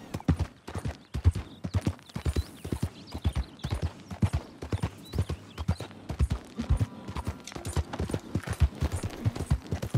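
A horse gallops in the video game Red Dead Redemption 2, with a steady rapid rhythm of loud hoofbeats, close and continuous, and faint voices barely present.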